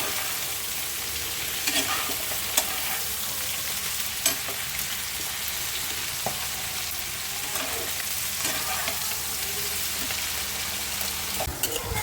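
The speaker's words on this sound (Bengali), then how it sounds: "আলু ভেজে মশলা কষাচ্ছি" Potatoes fried with turmeric and spices in a pan give off a steady, close sizzle that runs throughout, with intermittent scrapes and clacks as a spatula stirs them, and no voices.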